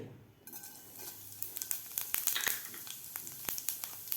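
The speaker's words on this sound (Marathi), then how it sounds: "मोहरी आपली व्यवस्थित फुललेली आहे" Half a spoon of mustard seeds crackle in two spoons of hot oil in a pan, a steady sizzle broken by sharp, irregular pops close up, with no voices.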